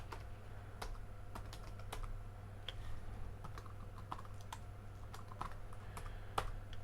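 Quiet, irregular keystrokes on a computer keyboard entering test credit card details, soft clicks in uneven bursts over a low steady hum.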